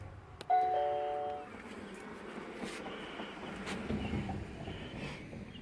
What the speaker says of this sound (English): let's go ahead and ring the doorbell